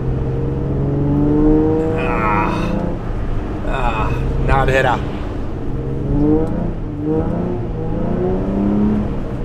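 Car engine held around 2800 rpm, a steady throaty drone with slight rises and swells in pitch running throughout, while someone talks over it.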